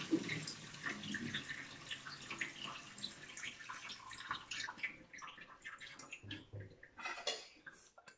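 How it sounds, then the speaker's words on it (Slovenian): Cold water poured into a pot of candied orange peel in a home kitchen, a fairly quiet splashing pour with clinks of pots and utensils, fading toward the end with a few faint knocks. "Dodamo mrzlo vodo."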